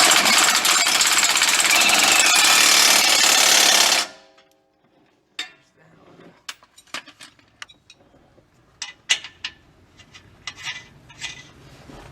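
A loud, continuous power-tool whir runs for about four seconds while starting the nuts on an adjustable track bar of a Jeep Wrangler suspension lift. It then stops abruptly, followed by scattered metallic clinks and taps of hardware nearby.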